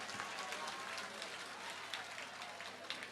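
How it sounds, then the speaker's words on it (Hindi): Audience clapping at a Hindu temple consecration festival in Gurugram, a steady broad wash of applause from a large crowd heard from a distance, with some voices mixed in. "जोरदार ताली बजा करके हमारे आदित्य जी को धन्यवाद दो"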